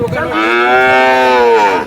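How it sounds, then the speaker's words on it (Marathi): A single loud, close cow moo, drawn out for nearly two seconds with a rich harmonic tone, heard on its own at a cattle market. "मोठ्या मापाची गाय बघू शकताय"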